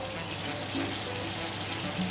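Thinly sliced onion and potato frying in plenty of oil for tortilla de patatas over lowered heat, a steady soft sizzle and hiss running evenly throughout with no talk.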